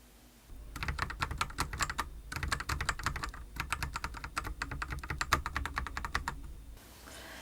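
Rapid clacky typing on a Bbox60 mechanical keyboard with lubed switches and noisy stabilizers, bursts of quick keystrokes with a brief pause, close and crisp, no voices.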